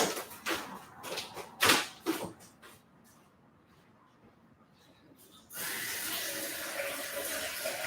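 Tap water pours into a vessel during indoor cyanotype printing, starting suddenly as a steady, close rush after a few soft clunks and handling knocks.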